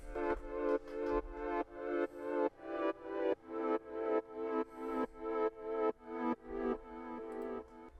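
A synth chord in FL Studio throbs in a steady rhythmic pulse, swelling and cutting off about twice a second, shaped by an automated Fruity Stereo Enhancer; bright, sustained and alone.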